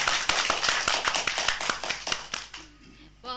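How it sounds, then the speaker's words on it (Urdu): A group of children clapping together during a Pakistan Day special kids' show, a dense burst of rapid claps that fades out toward the end. "ایک دفعہ پھر ہم تالیاں بجائیں گے"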